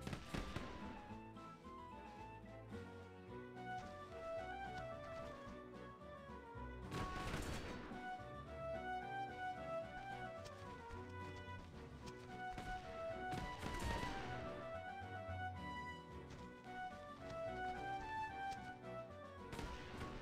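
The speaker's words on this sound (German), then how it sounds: "Die können aber schon von der Weite her schießen." Ranged troops fire in Sid Meier's Pirates!, a continuous crackle of rapid gunshots with a few louder bursts, heard faintly over background music.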